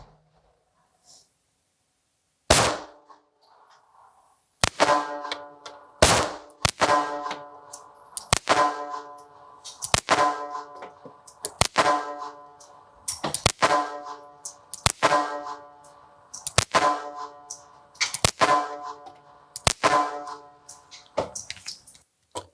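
An S&W Bodyguard 2.0 pistol fires Fiocchi ammunition at an outdoor target. About a dozen sharp, loud cracks come at an irregular pace, each ringing briefly, after a short quiet lead-in.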